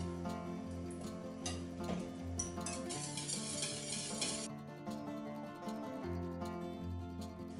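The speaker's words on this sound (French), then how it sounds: "je vais la laisser cuire pendant 1 à 2 minutes sans cesser de fouetter" Pastry cream for a strawberry fraisier cake boils in a pot while being whisked nonstop, a faint bubbling hiss under quick rhythmic whisk strokes against the pan.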